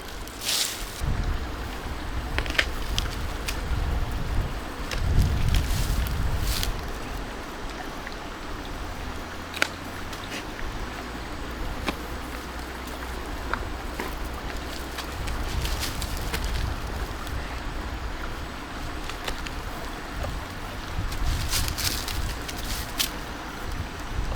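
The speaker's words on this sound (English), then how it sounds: "it's super windy today" Gusty spring wind beside a river buffets the microphone in rough bursts, with a constant outdoor rush and a few louder thumps, no voices.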